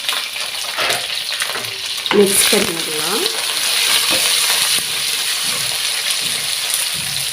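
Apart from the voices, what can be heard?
curry leaves and onion frying and being stirred in a pan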